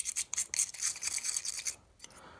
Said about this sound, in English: and then we'll just scrub it a little bit. I've got a little nylon brush.